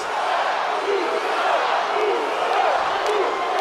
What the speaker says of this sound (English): Capacity crowd here tonight at Coliseo de Puerto Rico.